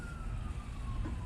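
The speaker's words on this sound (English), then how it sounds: "And now we've got sirens." Emergency vehicle siren wailing faintly in the distance, a thin steady tone drifting slightly downward beneath low background rumble.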